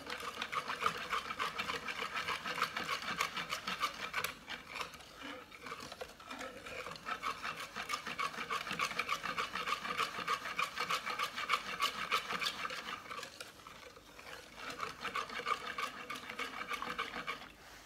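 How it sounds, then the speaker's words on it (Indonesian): Steady scraping and rubbing of a utensil stirring batter in a pan, continuous and close, with a brief pause midway and no talking. "Kita aduk lagi."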